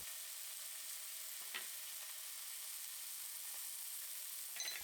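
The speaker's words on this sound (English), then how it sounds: "Sear both sides of Wagyu for 30 seconds each over medium heat." Wagyu beef sears over medium heat on a grill for yakiniku, a faint, even sizzling hiss running throughout with a few soft ticks and pops.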